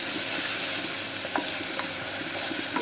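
Red chili, turmeric powder and ginger-garlic paste frying in a hot pan for khatta chukka bhaji, giving a steady close sizzle with a few soft stirring scrapes and no talk.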